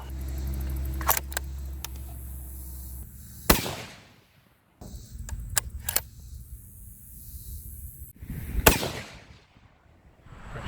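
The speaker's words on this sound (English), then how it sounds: "Shot the 2 testing loads" Two sharp, loud rifle reports from a 7mm-08 firing Barnes bullet test loads at an outdoor range, spaced about five seconds apart, with quieter clicks and handling noises between them.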